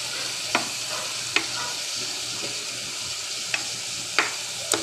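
Meat frying in a pan for menudo, a steady soft sizzle with several sharp utensil scrapes and clinks from stirring at irregular intervals, close up with no talking.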